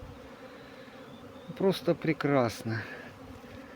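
Honeybees hum around hives at an apiary, a steady low drone with a few louder close passes as single bees fly near, while a person briefly speaks over it.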